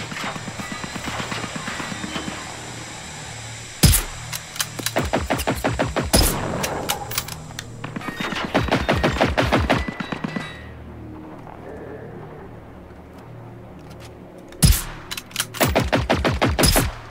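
Rapid gunfire sounds in the video game Generation Zero, with repeated bursts of sharp automatic shots and pauses between them. Players talk faintly over the shooting.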